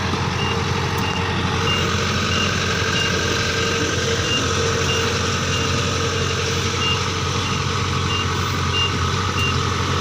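A Kubota DC-105 combine harvester engine runs at a steady, loud idle with a deep continuous rumble, and a regular high warning beep repeats throughout.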